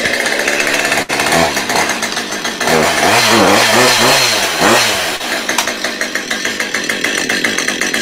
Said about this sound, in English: The saw is idling.